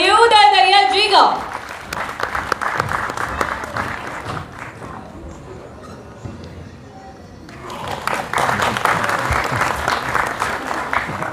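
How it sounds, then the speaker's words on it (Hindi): An audience at a comedy show in Mumbai Filmcity bursts into loud, sustained applause, dipping briefly in the middle before swelling again, with a voice heard at the very start. "तो एक बार जोरदार तालियों के साथ प्लीज स्वागत करिए"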